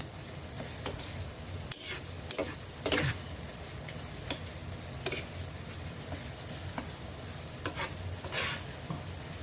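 Tomatoes crushed in a pan while sautéing for bagoong alamang shrimp paste: a steady low sizzle with intermittent spatula scrapes and taps scattered throughout, close and moderately loud.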